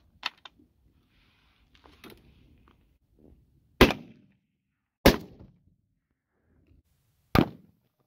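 Three sharp, loud 6.5 Creedmoor rifle shots firing Hornady 129 grain interlock factory ammunition at body armor outdoors, widely spaced single cracks with short decays, preceded by faint clicks and small handling noises.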